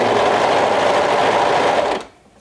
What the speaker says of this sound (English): we're stitching this down with a 1/2 inch seam allowance